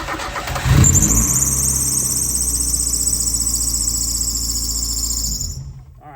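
A Mazda Miata Spec Miata track car engine cranks briefly and then catches, settling into a steady, loud, close idle with a high-pitched squeal running over it before it fades out.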